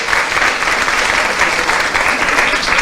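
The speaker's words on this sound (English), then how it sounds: "Let's give him another round of applause." Sustained applause from an audience after a professor's talk at a seminar on VAT for online purchases, a dense, even wash of clapping from start to finish with no voices.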